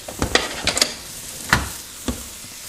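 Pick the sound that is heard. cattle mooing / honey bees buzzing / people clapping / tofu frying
tofu frying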